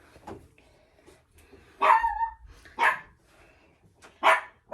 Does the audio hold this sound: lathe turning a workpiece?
no